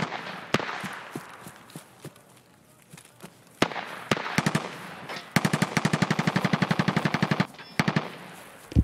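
Machine gun fire in the video game Escape From Tarkov: scattered single distant shots, then a long rapid burst of automatic fire, followed by a few more isolated cracks, sharp and moderately close.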